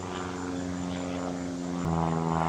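A propeller airplane drones overhead above a summer garden. The engine holds a steady hum with a clear low pitch, and it swells slightly louder toward the end as the plane passes, with no talk over it.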